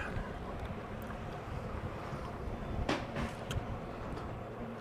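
Steady wind buffeting the microphone outdoors in Dali, China, a broad rumbling roar with a few brief gusty bursts, heard alone without any voices.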